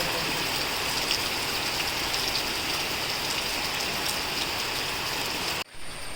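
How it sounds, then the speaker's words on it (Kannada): Heavy rain pours down steadily in a loud, continuous hiss with scattered drop impacts on nearby surfaces, cutting off sharply near the end, on the way to the Kukke Subrahmanya temple. "ಮಳೆ ಇನ್ನೂ ನಿಂತಿಲ್ಲ"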